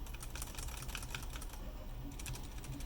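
Quiet, rapid clacking of keys on a 3D printed numpad with 3D printed switches and stabilizers, an irregular patter of close, light keystrokes with no voice.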